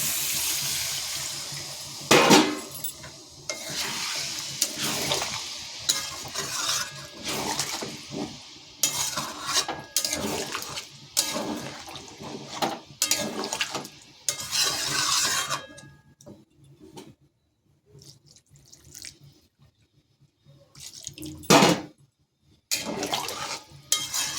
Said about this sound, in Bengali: দেখুন এবার দিয়ে দেবো একটু জল, দিয়ে দেবো জল।